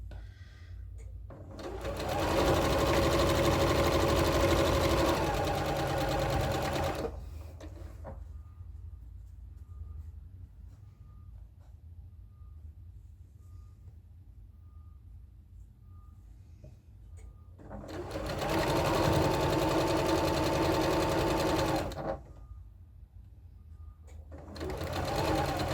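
A sewing machine chain stitches pieces of fabric in two loud bursts of rapid, steady whirring, each lasting several seconds, separated by a long quieter pause with low handling noise.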